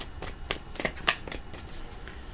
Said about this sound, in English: we're going to shuffle for our first card